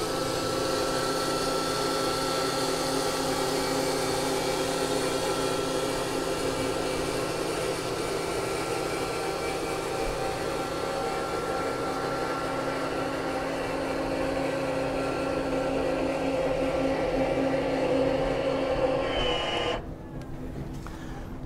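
A Seakeeper gyro stabilizer aboard a Falcon limo superyacht tender powers down: a loud, steady mechanical whir with layered tonal hum drones on, then drops abruptly near the end and keeps spinning more quietly.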